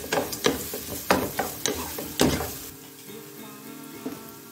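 BBQ pepper chicken frying in a pan while being stirred, with several sharp scraping strokes of the spoon over a close sizzle that settles into a quieter steady frying sound.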